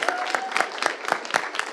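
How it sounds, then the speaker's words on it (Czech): A small audience gives a teacher a brief round of applause, with sparse, distinct claps spaced out and fairly quiet, along with a faint tone in the background. "Tak paní učitelce zatleskáme."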